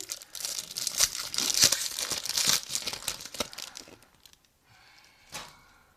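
Foil sticker packets from a collector's tin are torn open and crinkled close by, several seconds of sharp ripping and crackling paper with distinct tearing bursts, fading to quiet rustling and one final crinkle.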